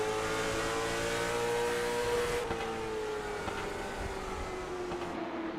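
A late model stock car engine racing at New Smyrna Speedway, a loud sustained roar whose pitch slides down as the car passes and fades slightly, with other engines droning behind.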